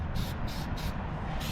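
Lithochrome paint hisses out of a spray can onto carved stone in steady, close bursts with brief pulsing gaps, and no talking.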